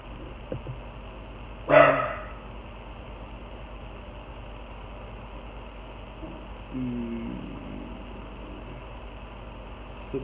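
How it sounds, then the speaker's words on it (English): A single brief dog bark rises once, distant and muffled, behind a steady background hiss; a faint voice murmurs later. "That was my dog barking."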